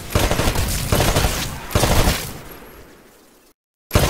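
Rifle gunfire at shooting-range targets in the Titanfall video game, several loud rapid bursts of shots separated by brief pauses, ending in a fading tail and a short silence.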